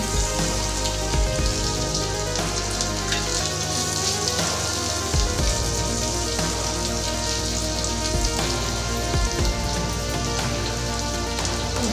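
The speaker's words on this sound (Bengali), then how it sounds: "লাল লাল করে ভেজে নেব" Pieces frying in hot ghee for a fasting platter, a dense, loud, continuous sizzle like heavy rain that holds steady throughout without any voices.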